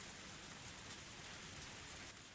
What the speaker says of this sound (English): Only the sound of the pouring rain filled up the silence.